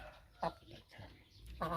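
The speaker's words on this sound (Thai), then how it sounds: "ไก่สาวพร้อมไข่ ได้มาสิบสองตัวนะครับ" A small flock of young laying hens ready to lay, giving two short faint clucks a second apart in a quiet setting.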